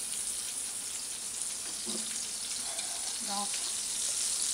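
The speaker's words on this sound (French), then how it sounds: "je vais commencer par mettre la margarine dans la poêle" Margarine sizzling in a hot frying pan, a steady bright hiss that continues under someone speaking French.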